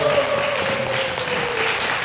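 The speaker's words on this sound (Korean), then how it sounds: "오늘 세 분께 다시 한번 여러분 큰 박수 한번 보내드릴게요" Audience applause at a health and detox camp awards gathering, a continuous round of clapping from a crowd with a faint sustained tone running underneath.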